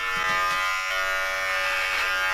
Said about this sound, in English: It's shaving you.